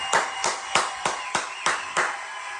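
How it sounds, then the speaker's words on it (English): Seven sharp hand claps land in a steady rhythm, each a crisp broadband slap, close and fairly loud with no talk over them. "I'm going to give you a lot of applause again."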